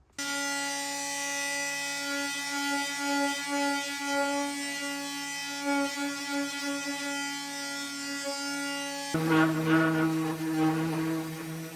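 Power sanding of porcelain table legs, a steady high mechanical whir with rich harmonic hum running unbroken for most of the stretch, then shifting to a rougher, lower buzzing tone near the end.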